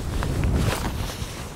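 Strong wind buffeting a fishing boat on open water during lure fishing, a steady broadband roar with low rumbling gusts throughout, close and loud with no talking.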